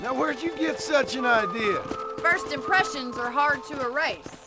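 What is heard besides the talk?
No distinct noise like a dog, phone or traffic.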